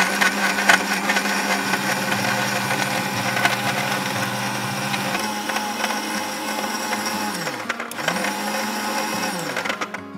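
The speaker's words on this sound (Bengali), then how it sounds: "ভাইয়া জুসটা ব্লেন্ড হচ্ছে" Electric blender whirring steadily as it purées banana and dates into a smoothie, a loud continuous motor drone with a brief dip in pitch near the end as the load shifts, no talking.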